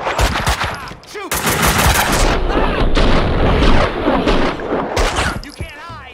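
Loud, dense gunfire from the video game Max Payne 2, rapid overlapping shots and bursts filling the whole stretch with brief lulls, close and alone.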